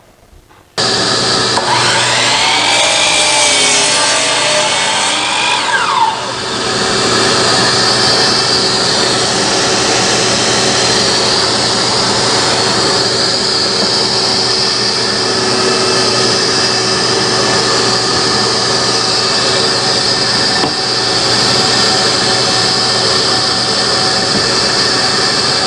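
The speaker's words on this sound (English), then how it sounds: "Now what we're going to do is cut off 36-inch sections with just 90-degree cuts until we get 8 legs." Wood is cut into 36-inch leg sections for a traditional wooden sawhorse with a power saw, which whines loudly and steadily, dips briefly once, then carries on evenly for a long stretch with no talk.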